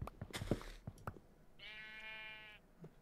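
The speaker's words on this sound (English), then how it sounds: "Just a sheep." A single Minecraft sheep bleats once, a clear wavering electronic-sounding baa held for about a second, following a few soft footstep and block clicks.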